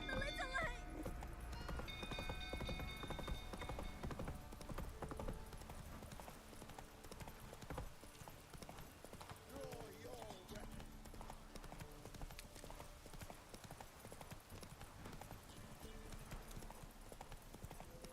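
Roach, a horse in The Witcher 3, gallops with steady clip-clop hoofbeats through the whole stretch, layered under game music and ambience, with occasional speech breaking in.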